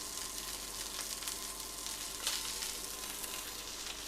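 Chicken breast fries skin side down in a hot pan, a close, continuous crackling sizzle with scattered pops at low overall volume.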